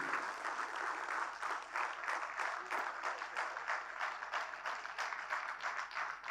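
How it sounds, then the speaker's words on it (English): An audience at a film premiere applauds steadily, a dense, even wash of many hands clapping at a distance, continuous throughout. "A big round of applause to the great journey of Dr."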